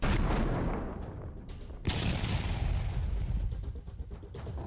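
Heavy booming blasts from Russian artillery firing shells in rapid succession, with rumbling aftershocks, a sharp loud impact near the middle, continuous battlefield noise throughout.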